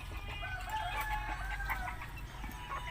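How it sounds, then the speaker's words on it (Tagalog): Chickens cluck and murmur nearby over a low background rumble, several birds making soft, overlapping calls, near a road with passing vehicles. "Manok, manok, manok, manok."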